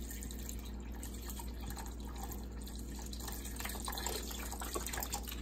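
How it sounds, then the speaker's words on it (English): Stock pours into a pot of butternut squash soup, a soft continuous liquid splash with a few drips near the end, close by and fairly quiet, with no talking. "We're gonna add our stock."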